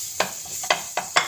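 Butter sizzling in a frying pan, heard as four short, crackling bursts of fat spitting at an irregular rhythm over a steady, quiet hiss.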